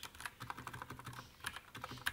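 Discord.js code is typed on a computer keyboard: a short, continuous patter of soft key clicks, fairly quiet and close, with no voices.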